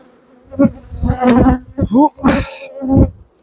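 Honey bees buzz loudly in close, swelling bursts around an opened hive, several insects passing near with rising and falling drones.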